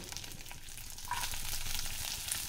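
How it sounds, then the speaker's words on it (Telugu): Dals, cumin, mustard seeds and curry leaves tempering in hot oil for wheat rava idli, giving a steady close sizzle that grows slightly louder halfway through, with no talk. "తర్వాత కొంచెం ఆయిల్ వేసుకొని పచ్చెనపప్పు, మినప్పప్పు, జీలకర్ర, ఆవాలు, కరివేపాకు,"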